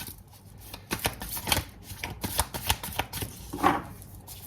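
Tarot cards being shuffled by hand, a close, quiet run of crisp riffling flutters and soft slaps repeating in uneven bursts, with no talk over them.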